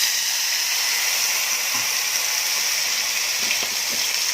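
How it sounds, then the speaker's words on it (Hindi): Water hits hot oil and spices such as mustard seed, crushed garlic and red chilli powder in a pan for a mutton dish, giving a loud, steady hissing sizzle that fills the whole clip without pause. "ये थोड़ा पानी जाएगा"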